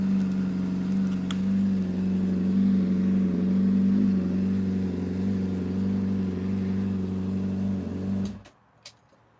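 A vehicle engine revs with a steady, loud, throaty drone for about eight seconds, then cuts off abruptly, leaving near silence with a faint click.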